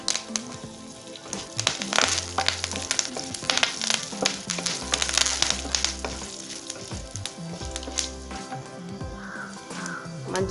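Curry leaves hit hot oil with mustard seeds and urad dal, giving a loud close sizzle with sharp spattering crackles throughout, crow-like caws and some tonal background sounds mixed in.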